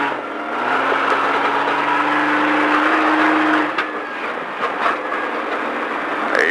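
Car engine under hard throttle at Speed Vegas in Las Vegas, a steady loud drone that climbs in pitch, eases off briefly near the end, then builds again.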